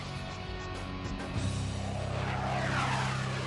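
A steady, loud roar from an F/A-18 Hornet supersonic jet in flight, with a rising whine partway through, heard continuously and without talking.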